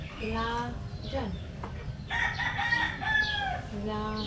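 A rooster crows nearby, its drawn-out call rising and falling, with some clucking and background voices around it.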